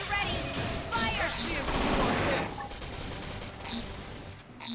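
Gunfire volley in the video game Xenoblade Chronicles X, a dense burst of rapid shots and crashes that fades after a couple of seconds, mixed with game audio.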